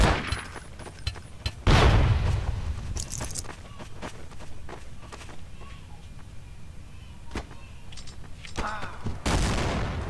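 Pistol gunfire in Counter-Strike: Source on Dust 2 or Office maps, several loud sharp shots at irregular intervals with quieter clicks and footsteps between them.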